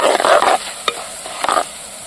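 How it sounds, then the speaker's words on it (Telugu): Chana dal and coriander seeds being stirred in a hot pan, a brief scraping stir followed by quiet frying crackle and a couple of sharp utensil clicks, close and fairly loud. "ఒక గంట చిలకరవలు అయితే వేసుకున్నాం బాగా కొద్దిగా అయితే కలుపుకున్నాము"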